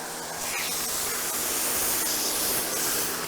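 Steady broadband hiss of water spraying from a pressure nozzle during a car wash, continuous and fairly loud for the whole stretch with no pauses.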